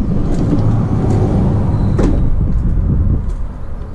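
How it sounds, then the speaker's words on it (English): Sliding side door of a 2017 Ford Transit 350 van, a loud rumbling roll along its track with a sharp knock midway, heard up close with no talking. "you can see a sliding side door."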